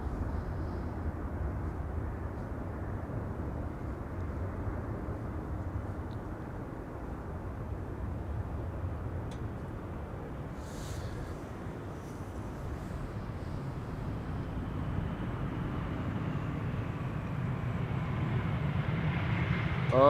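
Airliners arriving at Amsterdam Schiphol Airport make a low, distant jet rumble that holds steady and swells louder near the end.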